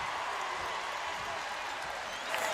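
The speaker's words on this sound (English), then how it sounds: "A well-deserved ovation from this appreciative crowd." An arena crowd at a UConn women's basketball game gives an ovation, a broad steady wash of applause and cheering that holds evenly at a moderate distance, with commentary voices faintly underneath.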